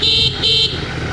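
Two short, loud blasts of a car horn on a winding mountain road in Thailand, heard close over the rumble of a running engine.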